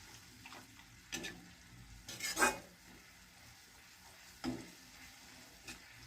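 Tamarind water simmering in an oil-glazed pan for a curry leaf and coriander thokku, giving low steady bubbling with soft sizzle and a few brief louder stirring scrapes, close by and with no talk.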